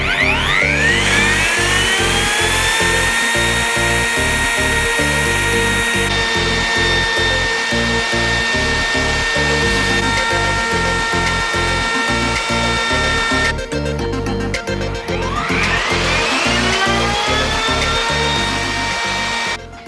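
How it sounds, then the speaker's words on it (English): A router with a trim bit runs continuously along the edge of a bespoke VW Transporter campervan worktop, a loud steady whine with rapid cutting chatter and pitch shifts as the bit loads and frees up, with no talking. "set the router up, and we'll be able to do our final trims around this with the trim bit of the router"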